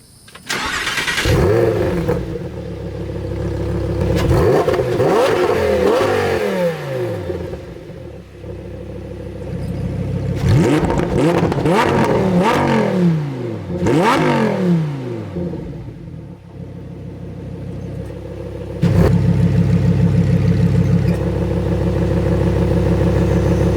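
A Lamborghini STO engine starts, then revs hard in three separate bursts, the exhaust roaring up and dropping back each time. It settles into a loud, rumbling idle whose tone shifts partway through as the exhaust baffles are compared.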